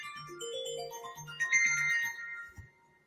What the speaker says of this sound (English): So y'all hear my phone ringing.